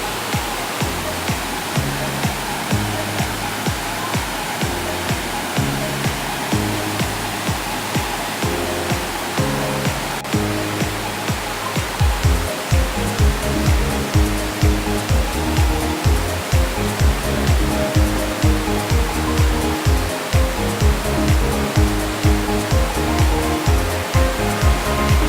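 The Moramo waterfall in Southeast Sulawesi roars as a dense, unbroken rush of falling water, loud and close, with a rhythmic low pulsing beat running beneath it.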